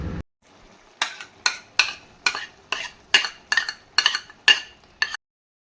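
Ground sesame paste is stirred into a thickening cabbage gravy in a pan, heard as about ten rhythmic, evenly spaced scraping strokes of a spoon against the pan, close and clear with no talk.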